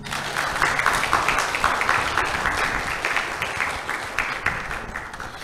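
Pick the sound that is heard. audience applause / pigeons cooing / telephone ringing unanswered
audience applause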